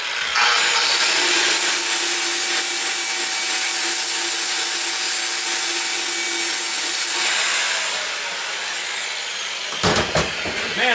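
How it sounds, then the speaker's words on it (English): A heavy grinder cleans a spot on metal with a loud, steady abrasive whir that runs for about eight seconds, then winds down, followed by brief rubbing and clatter. "Man, that's one heavy grinder, let me tell you, but it sure works nice"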